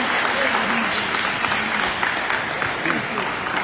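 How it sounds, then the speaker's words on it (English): A room of people at a Nike camp breaks into loud, close applause, a thick continuous patter of clapping hands that holds steady throughout, with some voices mixed in. "Clap it up for him."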